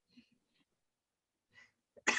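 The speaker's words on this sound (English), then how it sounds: "Sorry, I'm fixing to sneeze." A single sharp sneeze bursts out at the end, preceded by a couple of quiet breaths and small sniffs.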